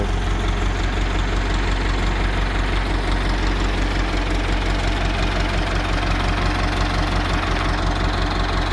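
Old Ford 6600 tractor engine running with a rotary tiller attached, a loud, steady diesel chug with a knocking, vibrating rhythm that stays constant and close throughout, no voices.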